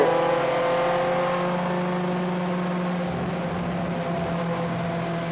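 Race car engine droning at high revs on a racetrack, steady tonal whine with a slight shift in pitch partway through, loud and continuous with no voices.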